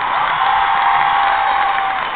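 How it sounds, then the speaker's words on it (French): A theater audience applauds and cheers at a Mozart rock opera show in a dense, continuous wash of clapping with scattered shouts, sounding muffled and steady throughout. "je pense qu'on peut les applaudir encore"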